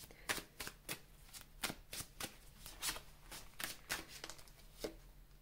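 A deck of tarot cards is shuffled in a steady run of crisp, riffling bursts, close and fairly quiet, with no voices over it.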